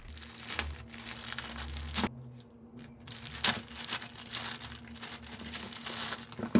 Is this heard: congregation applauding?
no